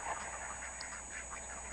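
Ducks quack in a foggy rural setting during night-time ratting with air rifles. Several short, repeated quacks come from a moderate distance over a steady background hum, with no one speaking.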